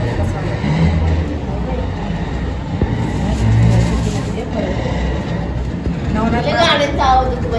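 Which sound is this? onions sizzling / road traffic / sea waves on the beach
road traffic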